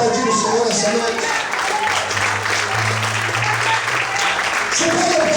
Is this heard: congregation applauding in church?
yes